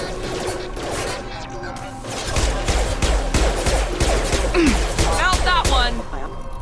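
Gunfire in the video game Mass Effect 2, repeated loud rapid shots and impacts hammering throughout a firefight, with voices calling out over the shooting.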